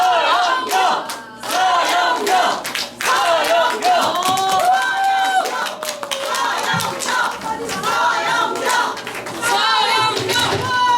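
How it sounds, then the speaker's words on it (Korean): Audience at a lawmaker's lecture event in Pohang bursts into loud, sustained clapping and cheering to welcome the speaker, a dense crowd roar that keeps going for about eleven seconds. "박수로 맞아주세요"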